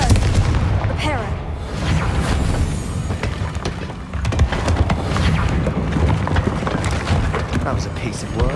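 Confringo blasting-curse explosions in the Hogwarts Legacy video game rumble as loud, repeated booms over dense battle noise, with voices talking throughout.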